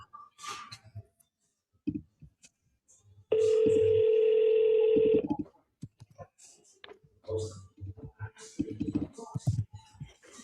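A telephone line sounds a steady electronic tone lasting about two seconds before a voicemail greeting, set between stretches of speech and clicks.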